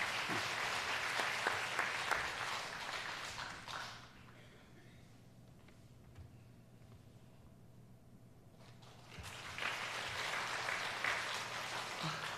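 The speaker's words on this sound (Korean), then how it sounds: "우리 박수로 모시겠습니다." A church congregation applauds at a Sunday morning service, a burst of clapping that drops away to near quiet in the middle before a second round of applause picks up again.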